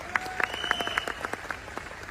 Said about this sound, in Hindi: एक बार जोरदार तालियां इनके लिए हो सकती हैं